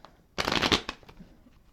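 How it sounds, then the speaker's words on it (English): A deck of tarot cards being shuffled in one dense riffling burst lasting about half a second, followed by a few faint card taps, close and clear with no talking. "no matter how many times I tried to shuffle that, the cards wouldn't go together"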